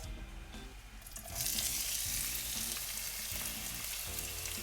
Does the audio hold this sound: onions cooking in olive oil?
yes